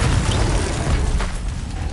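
A Confringo fire spell from the game Hogwarts Legacy blasts with a loud, dense booming rumble that stays heavy for about two seconds, then thins slightly toward the end.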